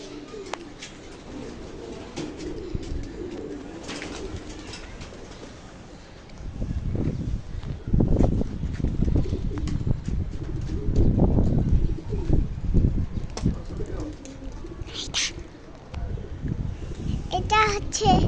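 Pigeons cooing on a house roof, repeated low throaty coos swelling in the second half, with a voice and other faint chatter mixed in nearby.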